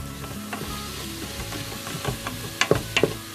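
Cumin is stirred into onions frying for lamb pilau, with a steady sizzle under it and a few sharp spoon clacks against the pan near the end, close and clear.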